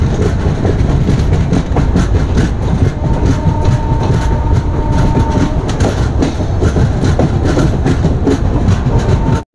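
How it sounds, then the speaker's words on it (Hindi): Shalimar–Visakhapatnam superfast express pulling out of Bhadrak station, a steady loud roar of rolling wagons with clickety-clack wheel beats and a faint tonal squeal, continuous and close for the whole stretch. "डिपार्ट हो रही है ट्रेन 2 मिनट के स्टॉपेज के बाद भद्रक से।"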